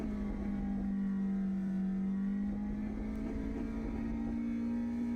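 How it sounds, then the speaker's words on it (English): A race car engine in Assetto Corsa EVO holds a steady, loud high-rev drone near the red line, a continuous buzzing tone that creeps slightly upward with no talking. "Like the tiniest bit of throttle still revs all the way to the red line."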